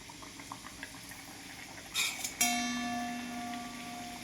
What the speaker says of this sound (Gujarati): જ્યાં સુધી કચોરી બ્રાઉન ના થાય ત્યાં સુધી એને તેલમાં શેકાવા દેવાની.